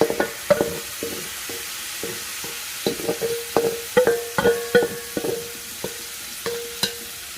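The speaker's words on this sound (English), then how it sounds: "I'm going to start sauteing my tomato, onion, and jalapeno." Tomato, onion and jalapeno sautéing in rendered fat in a pan for charro beans, with a soft sizzle under a series of rhythmic utensil scrapes and taps, no voices.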